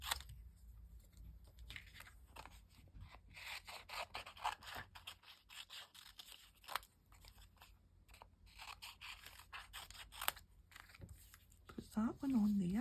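Scissors snip through a journal card while a flip folio is assembled, a series of quiet crisp cuts and paper rustles, mixed with soft talking.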